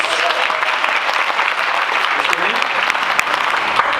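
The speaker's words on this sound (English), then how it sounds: "Give them a round of applause." An audience at a talent show aboard the Queen Mary 2 gives a volunteer loud, sustained applause, a thick even roar of many hands with a few voices mixed in.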